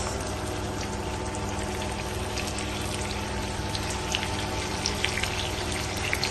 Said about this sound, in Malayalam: നന്നായിട്ട് തിളച്ച് കഴിയുമ്പോൾ നമ്മുടെ മീൻകുട്ടന്മാരെ ഇതിനകത്തിട്ട് നമ്മൾ ഫ്രൈ ചെയ്യുന്നത്